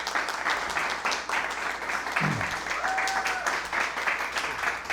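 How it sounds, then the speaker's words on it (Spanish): An audience at a film sound-design masterclass and talk breaks into steady, dense applause that carries through the whole stretch without letting up. The clapping is broad and sustained throughout, with a faint brief tone partway through. "Así que un aplauso, por favor"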